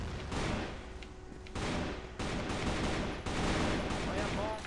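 Sustained bursts of automatic gunfire in the shooter game CrossFire, loud and continuous with brief gaps between volleys, under a steady game soundscape.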